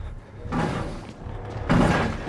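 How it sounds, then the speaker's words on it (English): A pursuer in Outlast busts down a door: two loud, heavy crashing bursts about a second apart, broad and booming, with a thudding low end and a short quieter gap between them. "He's busting down a door."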